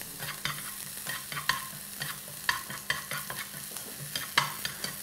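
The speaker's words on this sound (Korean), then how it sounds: "양파를 볶으면서 아까 썰어놓은 시금치를 넣어서 살짝 볶아주겠습니다." Chopped onion and spinach sauté in a pan, with soft sizzling broken by repeated scraping clicks of stirring at an irregular rhythm, quiet and close.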